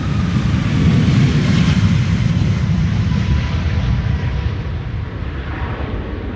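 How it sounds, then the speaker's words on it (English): A WestJet airliner departing for Halifax from Amsterdam Schiphol's Polderbaan runway gives a loud, close, broadband jet roar that peaks early and then slowly fades as the aircraft climbs away. "WestJet on its way to Halifax."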